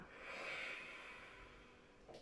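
A person takes a slow, audible breath through the nose during a yoga practice, one soft, close airy inhale, with no talk.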